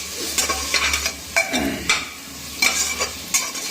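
Spice masala with red chili powder is stirred and fried in a pan, a steady sizzle broken by repeated sharp scraping strokes of a spoon against the metal, close and without talk.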